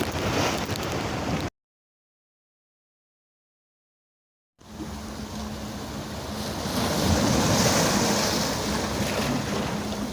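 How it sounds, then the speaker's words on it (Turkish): Ocean surf washes and rumbles against a rocky shore with gusty wind noise, broken by a few seconds of total silence before the waves resume and swell louder. "dalgalar"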